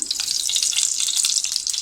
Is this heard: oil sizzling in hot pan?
yes